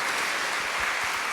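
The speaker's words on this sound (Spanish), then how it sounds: "Un aplauso." An audience at a parish gathering applauding, a dense, steady patter of clapping throughout the short stretch with no voices.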